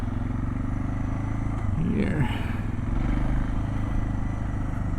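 A Suzuki DR650 dual sport motorcycle fitted with a K&N air filter and remote choke rumbles steadily while riding down a road, engine drone constant under a rider's voice, with a brief rise midway.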